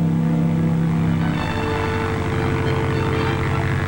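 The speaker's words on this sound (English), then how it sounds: "A small aircraft could use landing areas impossible for use by larger aircraft." A small Piper Cub propeller plane drones steadily overhead, its engine hum loud and continuous with a constant pitch and no voices.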